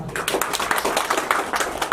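Audience applause at an Uttarakhand Foundation Day function as the chief guest is welcomed, a steady patter of many hands clapping fairly close and even throughout.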